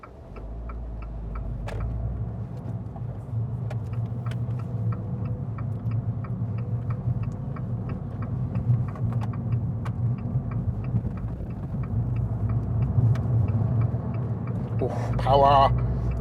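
Interior sound of a car driving around the multi-lane Clifton roundabout during a driving test: a low, steady engine and road rumble with faint rhythmic ticking like an indicator and a brief rustle near the end.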